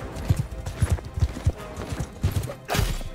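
A galloping horse in the video game Mount & Blade 2: Bannerlord thunders along in a loud, close, steady run of hoofbeats, ending in a brief burst of heavier noise.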